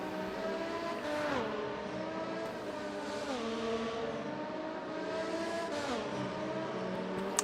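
Open-wheel race cars in the RaceRoom racing game, the FR X-22, droning loudly at high revs and then stepping down through the gears as they brake into corners, a continuous layered engine roar.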